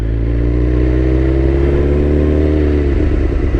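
A Suzuki GSX-R 600 sport motorcycle's 600cc engine is held steady and close, then rises as the throttle opens and the bike pulls away, a continuous mid-pitched drone running alone for a few seconds.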